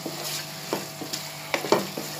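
Ketchup being stirred into chicken spaghetti in a pan: close, uneven scraping and tapping strokes over a soft steady sizzle, with a couple of louder clanks near the end and no voices.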